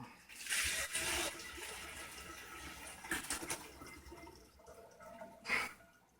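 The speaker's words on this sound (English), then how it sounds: "now we're going to pour in the cherry juice" Cherry juice being poured into mead, faint liquid splashing and trickling in uneven bursts, with a stronger gush near the end.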